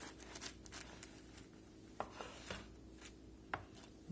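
A knife cuts French bread into half-inch slices for croutons, giving a soft sawing rasp broken by a few distinct crunchy strokes against a cutting surface, close and moderately quiet.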